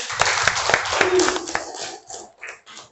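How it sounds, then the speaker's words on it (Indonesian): Schoolchildren in a classroom clap their hands together, a brief burst of sharp, fairly close claps that soon thins out as voices and chatter take over. "Oke, tepuk tangan dulu."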